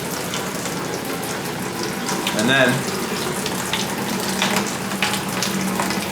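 Siphoned water from a 5-gallon baby brine shrimp hatchery pouring into a brine shrimp net, a continuous close splashing trickle with a gurgling surge midway, while a voice briefly speaks.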